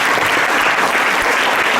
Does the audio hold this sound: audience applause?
yes